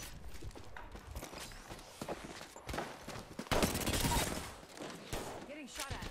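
Rapid gunfire bursts and footsteps during an Apex Legends match on a new map, with volleys of shots growing dense near the middle and in-game voice callouts mixed in.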